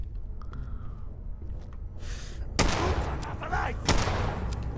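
Sniper rifle shots ring out in the video game Fallout 4: after a quieter stretch of distant pops, two loud, sharp cracks land close by, each trailing a ragged burst of echoing noise.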